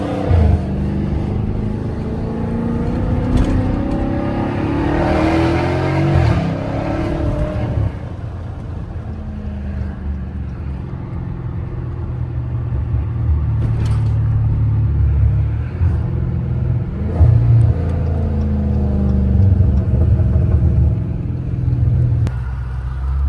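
A Dodge Challenger Scat Pack pulls hard from inside the cabin, its engine rising in a deep rumbling sweep before settling into a steady drone, with a few faint clicks and knocks near the end.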